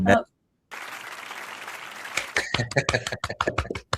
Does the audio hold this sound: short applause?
yes